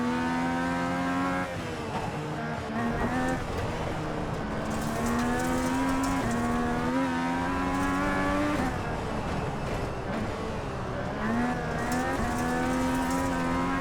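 A FIA Cross Car engine in a racing video game drones and revs steadily throughout, its pitch rising and falling as the car accelerates and shifts on a dirt course.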